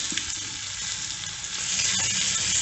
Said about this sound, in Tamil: பச்சை மிளகாய் போட்டு இது வதக்கினதும்